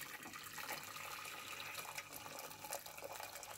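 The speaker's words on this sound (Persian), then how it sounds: "داخل قابلمه آب جوش میریزیم" Continuous splashing hiss of boiling water pouring steadily into a cooking pot, soft and close, with no voices.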